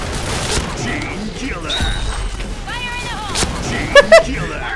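A video game explosion bursts out amid busy gameplay noise and chatter, with a couple of sharp loud thumps near the end over a voice talking.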